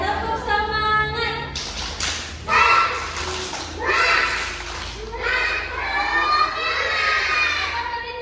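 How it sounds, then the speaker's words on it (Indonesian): A kindergarten class doing a rhythmic spirit clap together, bursts of patterned clapping and taps mixed with children's chanting and shouting voices in a room. "Oke, tepuk semangat."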